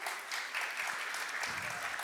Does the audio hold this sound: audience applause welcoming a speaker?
yes